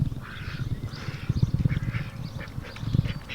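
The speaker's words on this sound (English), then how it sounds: "It just rained, so the ducks are going absolutely crazy with all this water." A group of ducks quacking constantly after rain, with overlapping loud nasal quacks in a busy, chattering chorus close by and outdoors.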